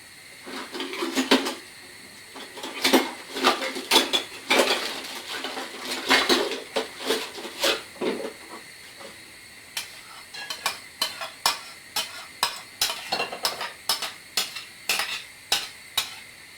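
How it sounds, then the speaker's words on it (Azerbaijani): Chopped onion tipped into a hot pot for chicken soup, then stirred, with repeated metallic clanks and scrapes of a utensil against the pot over a light sizzle, close and fairly loud, no talking. "Mən soğanı qazana əlavə edirəm."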